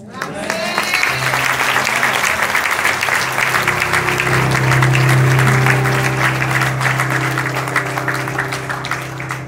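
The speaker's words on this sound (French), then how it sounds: "Tous vos applaudissements. Très fort." A conference audience bursts into loud, sustained applause that swells to a peak and slowly tapers, with a low sustained tone underneath.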